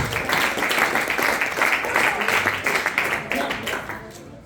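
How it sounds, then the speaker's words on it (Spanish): Congregation at a church service clapping hands together, a steady wash of moderately close clapping mixed with voices and a speaking preacher. "Dale palmas, dale palmas a Jesús."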